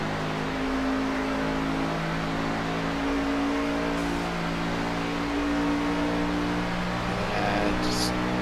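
A race car engine in the video game iRacing, at Pocono, heard as a steady, loud, close droning hum with slowly shifting pitch and a faint rise near the end, under commentary.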